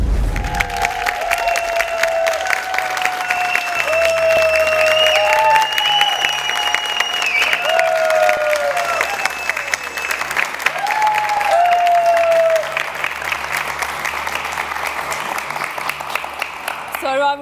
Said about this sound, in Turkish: Bu coşkulu alkışları sanıyorum Damla ve Ebru'ya borçluyuz.